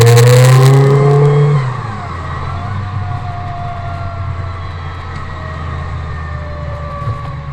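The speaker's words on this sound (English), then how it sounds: "Yeah, it's got that nice distinctive supercharger sound on it." A supercharged VW Polo G40 engine revs hard at first, then drops to a lower, steady idle-like drone with a faint whining tone, heard close and without talking.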